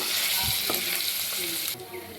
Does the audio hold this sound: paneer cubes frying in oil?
yes